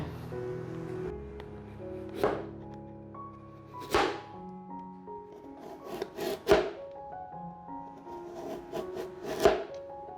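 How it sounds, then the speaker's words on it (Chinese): A knife chops through taro on a wooden cutting board, shredding it with sharp, separate thunks spaced a second or two apart, close and clear against a quiet kitchen. "把芋头切丝"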